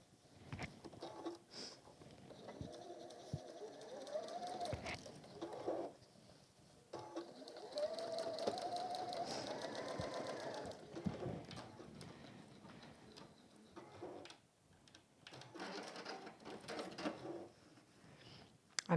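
A sewing machine top stitching a fabric mug carry runs in bursts of rapid, even mechanical whirring, fairly quiet and close, with pauses and small clicks between runs.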